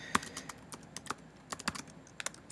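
Typing on a computer keyboard while logging into a Robotino robot over SSH: a run of irregular, crisp key clicks with uneven gaps, close and fairly quiet, no talking.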